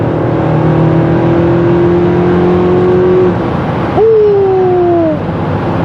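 A Dodge Durango with a Hemi engine accelerates hard, its steady droning pull climbing in pitch, dropping briefly at a gear change, then rising again, loud and close from inside the SUV.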